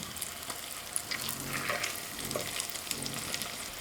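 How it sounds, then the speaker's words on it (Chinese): Youtiao dough sticks with egg deep-frying in hot oil, a dense continuous bubbling crackle close by, with soft stirring and turning noises mixed in. "炸至另一边变色，我们给它再次翻面"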